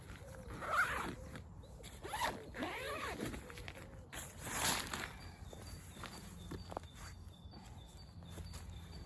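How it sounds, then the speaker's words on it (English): The zipper on a Jack Wolfskin Gossamer one-man tent is pulled in several quick rasping strokes, close and fairly quiet, during wild camping outdoors, with faint rustling between the pulls. "Zip it up inside."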